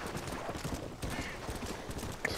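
Horse hooves clip-clop in the video game Red Dead Redemption, a quiet, rapid patter of hoofbeats with no speech over it.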